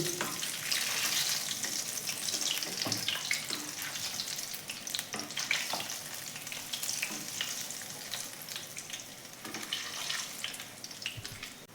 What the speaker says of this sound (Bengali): আঁচটা কিন্তু আমি মিডিয়ামে রেখেছি রেখে এইভাবে চপগুলোকে ভাজছি